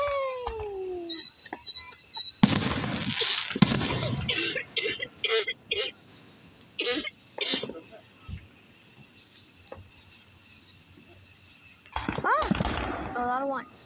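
Loud fireworks explode at a firework show, a few heavy bursts near the start and more near the end, over a steady chorus of night insects with voices faintly in the background.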